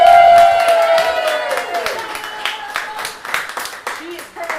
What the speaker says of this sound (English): Please give a round of applause to Melissa Kaczarek.